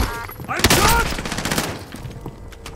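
Rapid bursts of gunfire from a Call of Duty Warzone Plunder match, loud and close, with a dense volley that tapers into scattered shots while players talk over it.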